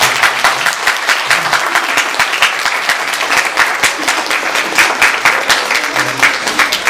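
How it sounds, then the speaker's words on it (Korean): A church congregation at a Sunday service gives loud, sustained applause for a newly married couple, dense clapping that stays steady from start to finish. "박수로 크게 격려해 주십니다."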